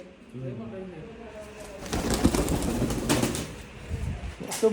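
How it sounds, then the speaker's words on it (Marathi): Low pigeon coos near the start, then a burst of wing flapping and rustling, with voices talking alongside. "कबूतर आहे का कोंबरी आहे"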